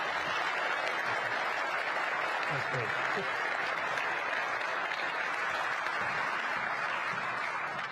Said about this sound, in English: A great round of applause for the Governor of Kentucky